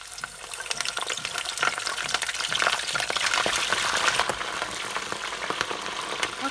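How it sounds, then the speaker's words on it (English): Cauliflower pieces fry in very hot deep oil for a Lebanese vegetable maklouba, a loud, steady, dense sizzle and crackle heard up close without pause, and nobody speaks. "now in very hot oil, I'm going to start frying the cauliflowers"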